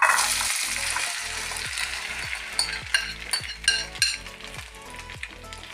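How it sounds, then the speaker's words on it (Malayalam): Egg mixture sizzling in a spoonful of sunflower oil in a pan, a steady close frying hiss broken by repeated rhythmic scrapes and clinks of stirring. "അതിൽ ഒരു സ്പൂൺ സൺഫ്ലവർ ഓയിൽ വീട്ടിയിട്ടുണ്ട്. അപ്പോൾ നമുക്കത് ഈ കൂട്ട് നമുക്കിതിൽ വീട്ടാം."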